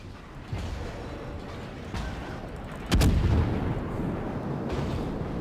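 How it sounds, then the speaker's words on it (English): Secondary guns on a Tier 7 New Orleans American cruiser in World of Warships fire in rapid game bursts, with a loud, close boom near the middle over steady rumbling battle noise. "Those secondaries are insane."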